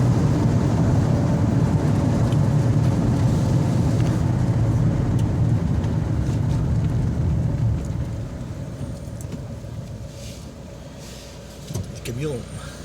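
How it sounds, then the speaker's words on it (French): A truck rumbles past close by with a loud, steady engine roar that fades after several seconds, while people talk over it. "Camion."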